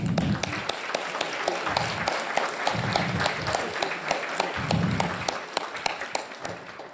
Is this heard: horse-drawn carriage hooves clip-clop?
no